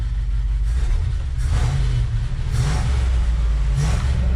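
A 1969 Ford F-250 that sat for 20 years runs with a loud, steady low engine rumble, rising in several surges as the throttle is revved, close by and alone.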